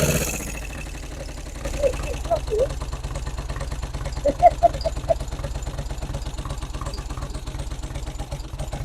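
A vintage Norvin motorcycle engine runs steadily just after being started, a low, even idle throbbing under people talking nearby.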